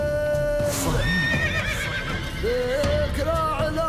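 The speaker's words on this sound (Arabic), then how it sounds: "صهيل صهيل" A horse whinnies loudly inside a show jingle, its neighs rising and falling over music and a sung voice, with clip-clop hoofbeats and busy mixing around it.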